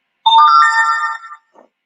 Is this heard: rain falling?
no